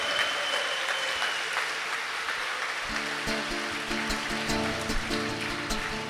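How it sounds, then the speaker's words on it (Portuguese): Congregation applauding in a Catholic church during a Sunday evening Mass, a sustained wash of clapping from many hands, joined midway by music with a steady beat. "Uma salva de palmas para o Senhor."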